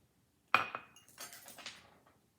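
Metal forks clinking against a bowl while roasted butternut squash salad is stirred with dressing, one sharp initial clink followed by a soft cluster of lighter scraping taps, close and quiet.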